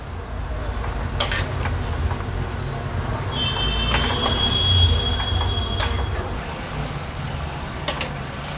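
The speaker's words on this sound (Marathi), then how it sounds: "हाय टू मीडियम फ्लेम वर कंटिन्यू स्टर करत हे आपल्याला व्यवस्थित फ्राय करून घ्यायचे आहेत।" Chickpeas for garlic chana koliwada fry in a pan over high to medium flame while being stirred: a steady close sizzle with scattered scraping clicks and a brief squealing tone in the middle.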